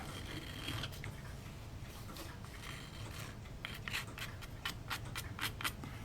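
Small hand file working burrs off a model ship part, a quiet run of short rasping strokes that grow quicker and sharper toward the end, close and faint.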